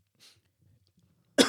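One sharp, loud cough bursts out near the end after mostly quiet, with a faint breath earlier on.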